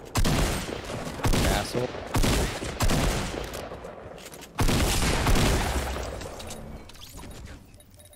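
A Fortnite Battle Royale firefight plays out as rapid volleys of gunfire in several bursts, loud and close, separated by brief pauses. A voice briefly curses partway through.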